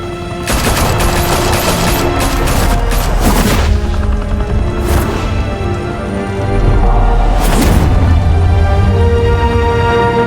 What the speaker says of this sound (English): Open fire!